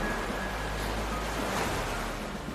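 Steady roar of ocean waves and wind at sea, a dense continuous wash of surf with no voices.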